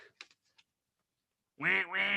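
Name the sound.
voice imitating a duck quacking for a duck puppet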